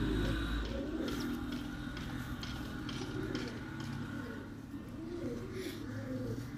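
White pigeons with black tails, a Chitay Kal Bund breed, coo softly in repeated low rolling calls over steady background noise, faint and moderately distant.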